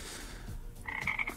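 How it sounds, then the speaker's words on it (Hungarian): Frog croaking as a sound effect: a few short, nasal croaks in a quick run near the end of a brief, fairly quiet moment, with no talk. "Imádom a béka hangot."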